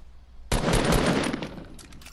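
Rapid gunfire in a video game, a sudden loud burst of automatic shots that starts abruptly and rattles on for over a second before fading into softer trailing pops.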